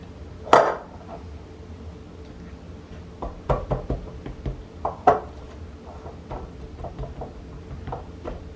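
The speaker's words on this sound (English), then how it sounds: "So we start pressing, cutting up the butter into small bits." Pastry cutter pressing butter into flour in a bowl for an all-butter pie crust, giving scattered clinks and knocks of metal against the bowl, irregular and close, with quiet gaps between.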